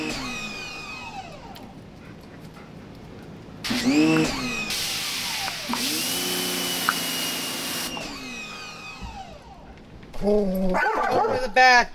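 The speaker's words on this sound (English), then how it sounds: "There are dogs." Dogs barking and yipping in short bursts, loud and close, with a whining hum and other noises between the barks.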